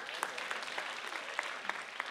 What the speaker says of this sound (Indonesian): Tepuk tangan buat Yono.